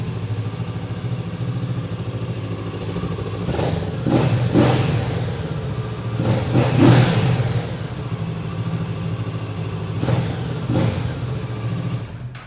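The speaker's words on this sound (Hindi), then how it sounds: "एग्जॉस्ट नोट आपको एक बार सुना देते हैं. चलो let's fire this thing up." Kawasaki Z650 RS motorcycle with a 650cc engine idling steadily up close, with several sharp throttle blips revving the exhaust note in short bursts.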